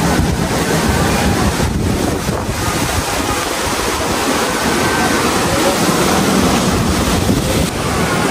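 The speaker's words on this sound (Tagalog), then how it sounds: "malakas ang hangin dito ngayon" Strong, gusty wind roars continuously, buffeting the microphone with a dense, turbulent rush that never lets up.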